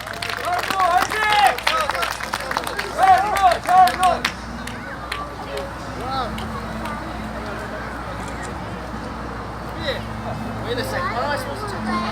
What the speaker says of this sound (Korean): 큰 박수로 한 격려를 해주시기 바랍니다